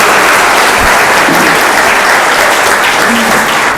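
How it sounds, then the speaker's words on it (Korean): Loud, dense audience applause at a forum in the National Assembly members' hall, a continuous close wash of many hands clapping with no letup and no talking. "박수 한번 주시죠."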